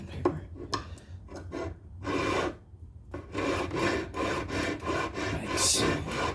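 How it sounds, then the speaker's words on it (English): Hand sanding wood on a bass guitar build, a run of quick rasping scrubs up close, some short strokes and some longer ones, broken by a short pause partway through, with no voices. "A little bit of sandpaper."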